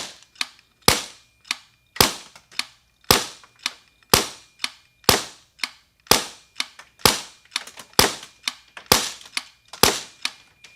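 Polarstar Kythera HPA airsoft rifle firing ten sharp, loud shots in a steady semi-automatic string, each a crisp snap about a second apart with a short decay, no talking.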